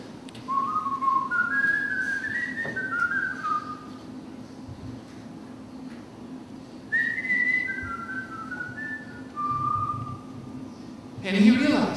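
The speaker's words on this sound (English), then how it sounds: "the tune he was whistling without even thinking about it was the tune that he had wanted to learn" A person whistles a tune in two lilting phrases, clear and moderately close, over a quiet background, with a brief knock near the end.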